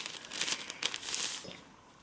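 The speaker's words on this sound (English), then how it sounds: "I've also got some grease-proof paper." Sheet of grease-proof paper crinkling and rustling up close while doing an iron-on vinyl craft, a dense burst of crackly handling that fades out toward the end.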